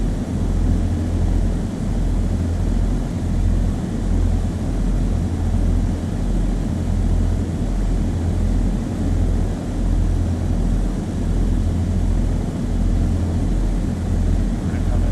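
A propeller airplane in Flight Sim World hums with a steady, loud, pulsing engine drone, its low throbbing tone continuous and unchanging throughout.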